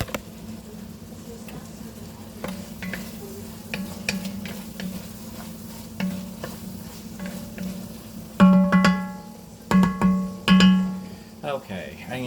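Onions frying and being stirred in a pan, a steady low sizzle with occasional scrapes, then louder clattering stirring bursts near the end, with some talk in the background.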